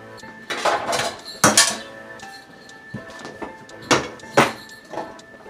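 Several sharp knocks of a knife chopping potatoes on a cutting board, in uneven bursts with brief pauses, close and fairly loud with faint kitchen clatter between.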